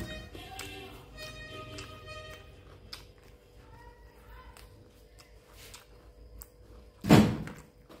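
Knuckles knock on a home door during a meal, with a few scattered light taps followed by one heavier thud, faint against the room's background noise.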